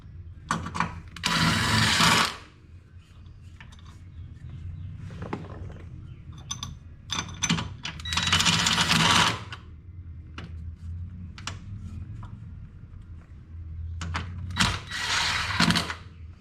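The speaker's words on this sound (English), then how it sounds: "Use your 10mm socket." A ratchet with a 10mm socket tightens skid plate bolts on a Polaris RZR Pro XP 4, giving bursts of rapid clicking and scraping with intermittent metallic ticks and handling clatter, close up and without talk.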